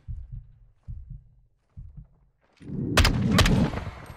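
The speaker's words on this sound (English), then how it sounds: "Why are you laying down when he's right there shooting at you?" Gunfire from the Call of Duty Modern Warfare 2 campaign: a loud, dense burst of shots with sharp cracks near the end, following a few low thumps.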